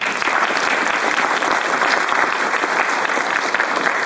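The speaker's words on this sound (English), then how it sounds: "Clap it up for that." A studio crowd claps together for several seconds, a thick and steady wash of loud applause that holds an even level throughout without cheering or speech.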